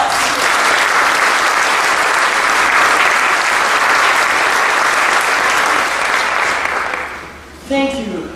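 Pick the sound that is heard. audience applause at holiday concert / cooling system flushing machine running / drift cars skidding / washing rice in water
audience applause at holiday concert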